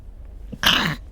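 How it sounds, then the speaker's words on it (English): A single sharp human sneeze bursts out close and loud after a near-quiet moment, then trails off within about half a second. "I just sneezed"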